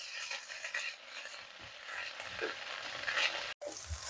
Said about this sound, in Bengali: দিয়ে এটাকে 1-2 মিনিট ভেজে নেব।